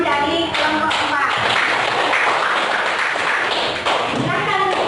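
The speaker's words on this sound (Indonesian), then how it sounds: "Oke, silakan beri tepuk tangan dari kelompok 4." A classroom group applauds together, a dense burst of clapping running the full length alongside loud student chatter and voices.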